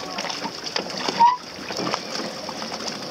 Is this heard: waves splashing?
yes